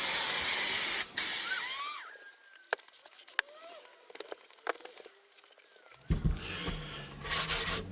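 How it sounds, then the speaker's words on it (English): Contact adhesive sprayed from a can onto spun bond panels for a storage ottoman, heard as a loud hissing burst at the start, then scattered short hisses and rubbing handling noises, followed by another broad hiss near the end. "I'm just going to use some contact adhesive and just adhere the spun bond straight on."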